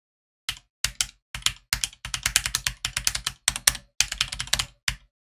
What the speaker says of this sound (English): I'm just going to let you listen to the keys